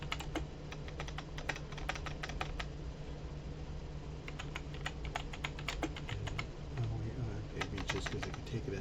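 Fingers type steadily on a computer keyboard, close by, a quick irregular run of light clicking keystrokes with brief pauses, over a low steady background hum and no voices.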